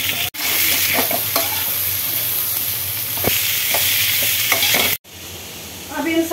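Cabbage, carrot and capsicum stir-frying in a pan for veg chowmein: a steady close sizzle with repeated scraping stirs, briefly cut off twice.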